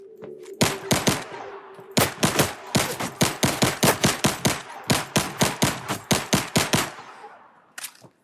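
Automatic weapon fire from a character moving in the Lyra sample game for Unreal Engine 5: rapid sharp shot bursts, a short volley, a pause, then a long run of evenly spaced shots, loud and close with no voices.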